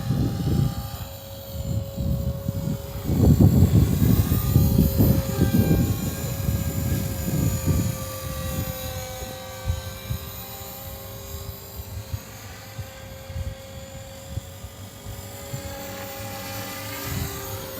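A Walkera v450D03 RC helicopter flies outdoors on a windy day, its rotor whine droning steadily at mid distance, swelling louder early on as gusts buffet it, with no voices.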